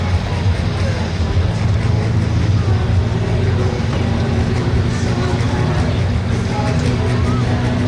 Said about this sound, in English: The 8360R John Deere that's on the track now